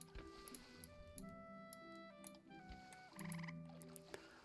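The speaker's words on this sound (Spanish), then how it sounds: "¿He oído ranas? ¿Hay ranas o algo por aquí?" Frogs croak in the survival game Clanfolk, a chorus of tonal, rippling calls set against game music and ticking effects, fairly faint and steady throughout.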